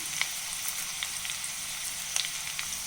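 Almonds, cashews and curry leaves fry in hot oil for rava upma, giving a soft, steady sizzle with faint crackles and light pops, heard alone without talk.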